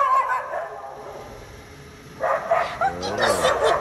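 A dog barks and yips a few times in quick succession, loud and fairly close, outdoors near a car, rising out of a quieter stretch of background noise.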